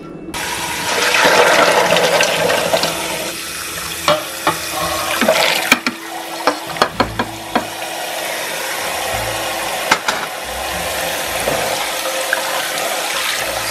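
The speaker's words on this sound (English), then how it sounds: "So there you see, we're going to scrub these beans until this comes off." Soaked soybeans are rubbed and scrubbed by hand in a bowl of water, making loud sloshing and swirling with scattered sharp knocks and clicks from beans and bowl, close to the microphone.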